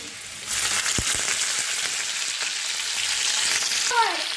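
Green chilies hit hot oil for a dal tadka, setting off a loud, steady sizzle that lasts throughout, with a couple of sharp clinks from a spoon near the start and a brief stir near the end.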